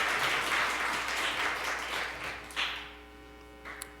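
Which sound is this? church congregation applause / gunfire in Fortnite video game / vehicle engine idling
church congregation applause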